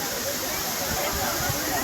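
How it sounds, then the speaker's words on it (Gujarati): Kosmal Bhigu waterfall in Gujarat gives off a steady, dense rush of falling water, an unbroken roar with no pauses for the whole stretch. "આ એક બીજો ધોધ છે, એક બીજો ધોધ તે બાજુ છે"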